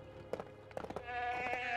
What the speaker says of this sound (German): Ist da überhaupt eine Ziege? Sieht ja nach einem Schaf aus.